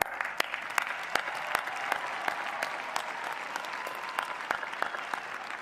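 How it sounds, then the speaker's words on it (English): A large crowd applauds at a UNC-Chapel Hill spring commencement ceremony, a sustained, somewhat distant wash of clapping, with sharp individual claps standing out at irregular intervals. "have a round of applause for that"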